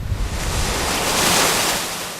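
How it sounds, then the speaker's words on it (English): Heavy ocean surf driven by an angry wind at high tide, with storm surge flooding toward a new inlet; a loud, continuous roar of breaking waves and buffeting wind noise fills the whole stretch, with no voices. "High tide and an angry wind It's crazy."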